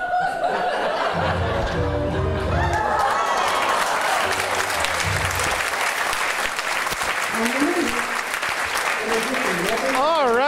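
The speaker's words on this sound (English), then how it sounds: "fling open the fabric and receive your well-deserved applause" An audience bursts into loud, sustained applause mixed with laughter after a magic trick's finale, and a voice carries over the clapping crowd throughout.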